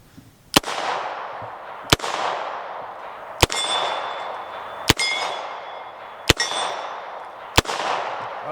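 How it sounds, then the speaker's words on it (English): Gunfire from a vintage 1966 Colt Python revolver with a 4-inch barrel strikes a metal gong target six times at steady intervals, each sharp crack followed by a ringing metallic clang that decays before the next shot. "Let's try this gong again"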